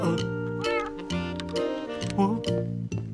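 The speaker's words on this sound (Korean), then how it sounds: "어디서 고양이 소리가 나지?" Cartoonish cat meows from a Minecraft cat, several short voiced calls mixed with people talking over a steady backing.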